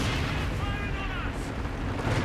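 Mortar artillery fire in a competitive strategy video game match, dense low thuds and rumbling blasts layered in a busy battle mix, moderately loud and continuous with a caster's voice faintly underneath.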